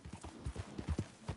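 A horse gallops in the video game Red Dead Redemption 2, its hooves pounding in a quick, regular rhythm of close, dull thuds.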